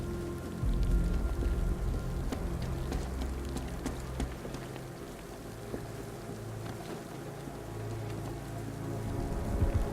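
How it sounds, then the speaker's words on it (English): Rain falls steadily in Batman: Arkham Knight, a constant hiss of drops over a low rumbling ambience that holds throughout, with no voices. "What's with all the rain?"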